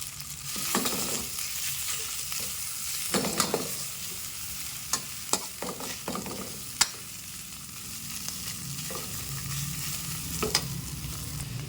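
Hotdogs frying in a pan, a continuous sizzle broken by sharp utensil scrapes and clacks as they are stirred and turned, close and fairly loud.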